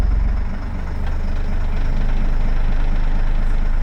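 A military vehicle's engine idles at its lowest setting with the headlights on, steady and close, a continuous deep rumble that holds without change and carries no talk.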